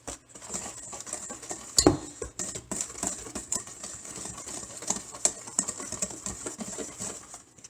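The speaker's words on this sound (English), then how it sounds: "I'm going to mix that together" Cake batter of creamer and sugar being mixed in a bowl for a canned peach cake: irregular clinks and taps of a utensil against the bowl, with one louder knock early on, close and without talk.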